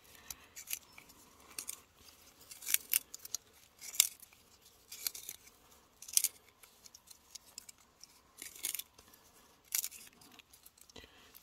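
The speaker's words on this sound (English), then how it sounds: "And then you can just turn this like a regular pencil sharpener." A hand-cranked pencil sharpener shaves wood into curls, giving irregular dry scraping and crunching bursts, some sharp and close, with short quiet gaps as it is turned.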